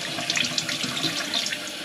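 Tap water pours steadily into a container being filled to dissolve soap, a continuous close hissing splash with no voices.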